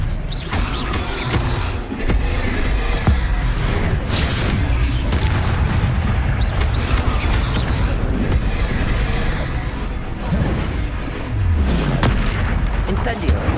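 Spell blasts and explosions from Hogwarts Legacy combat rumble and boom steadily at moderate level, deep impacts with creaking mechanical texture throughout, while a voice calls out spell names over them.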